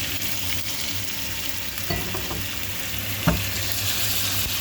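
Chicken slices sizzle loudly in a very hot pan with a big spoonful of ghee, a constant dense crackle with a few clinks and stirring knocks, no voices.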